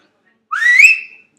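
A short, high, rising whistle from a person, a single loud close note lasting under a second and then fading out, with silence before and after.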